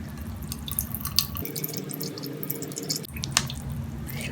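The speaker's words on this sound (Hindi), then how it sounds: "हम इसको दबा के निकाल देंगे इसका पानी।" Washed ground beef is pressed by hand to squeeze out its water, giving wet squishing and steady dripping into a bowl, close and continuous, with a couple of sharper drips near the end.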